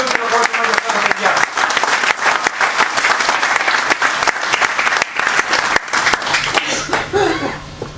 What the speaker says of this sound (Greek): Ένα μεγάλο χειροκρότημα για αυτά τα παιδιά.